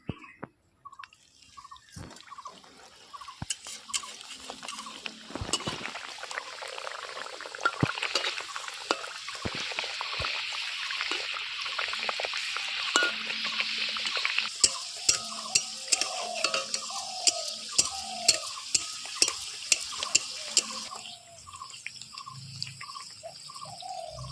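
Curry leaf kachoris slipped one at a time into hot oil, with close bubbling, popping and sizzling crackle that builds and rattles with sharp ticks, plus occasional scraping of a utensil.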